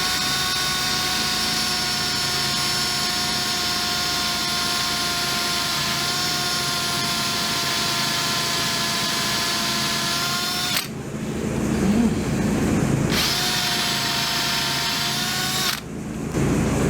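A power drill with a small bit bores steadily and loudly while working on an International Farmall Super A tractor part, running continuously with two brief pauses near the end.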